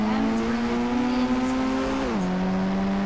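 Steady synthetic engine drone from a vehicle in an Indian bike video game with zombies, holding a constant pitch that dips slightly partway through, loud and close with no speech.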